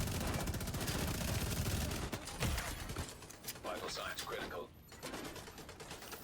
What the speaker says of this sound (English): There's a gun somewhere playing absolute havoc with me right now.